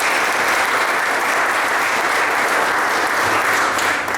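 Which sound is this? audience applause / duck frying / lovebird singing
audience applause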